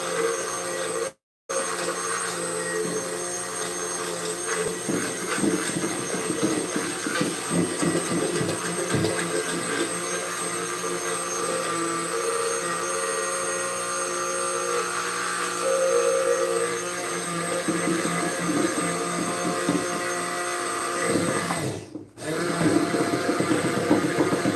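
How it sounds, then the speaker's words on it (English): An immersion blender whirs continuously while blending mayonnaise, a steady mid-level motor drone with scraping and gurgling texture, broken by two brief silent gaps. "you'll be able to see the immersion blender sucking it up and then spitting it out as a thickened mayonnaise"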